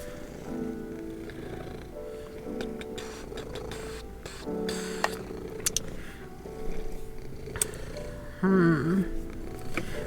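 A house cat purrs close by in a low, steady rumble that runs throughout, mixed with faint ticking and room noise and occasional brief higher sounds.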